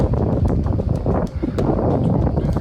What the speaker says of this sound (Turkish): Çok rüzgarlı yol bugün.